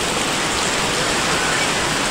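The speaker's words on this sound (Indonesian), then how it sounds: "Bisa dilihat teman-teman, hujan deras sekali" Heavy rain pours down without a break during overnight flooding in Malaysia, a dense, loud, steady hiss with no talking.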